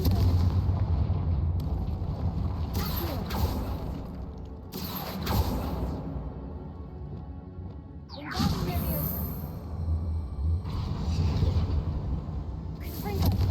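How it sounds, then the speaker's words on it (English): Confringo fire-blast spells from Hogwarts Legacy erupt in several loud explosive bursts with whooshing tails, spaced across the stretch over a rumbling backdrop. "Confringo."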